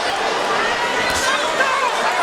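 A boxing arena crowd roars in a dense, continuous wash of cheering at a pro fight between Gervonta Davis and Mario Barrios, with a commentator's voice mixed in over the noise.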